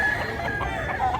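A bullstag rooster, a young gamecock, gives a short, close, loud crowing call that holds steady for just over a second.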